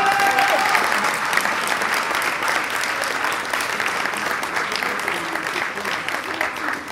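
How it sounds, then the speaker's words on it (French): A theatre audience gives loud, continuous applause after a show, a thick wash of clapping that holds steady for seven seconds with a few faint voices and cheers mixed in. "On vous applaudit."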